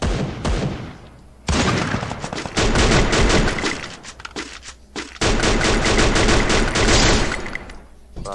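Rapid bursts of automatic gunfire from a competitive online shooter game, loud and close, with dense volleys separated by brief pauses.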